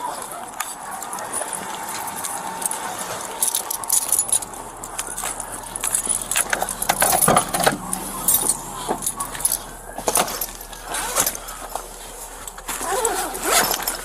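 Keys jangle and clink repeatedly in bursts over a noisy outdoor scene, with rustling, distant traffic and faint voices around them.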